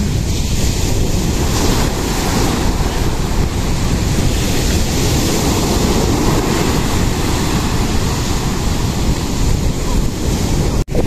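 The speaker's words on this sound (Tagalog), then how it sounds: "Malaki po ang alon." Constant roar of large ocean waves and surf at the seashore with heavy wind buffeting, loud and unbroken throughout.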